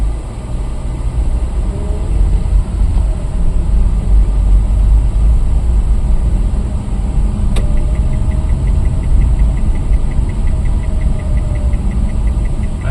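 A motorcycle engine idles close by, a continuous low rumble with a faint rhythmic ticking running through it.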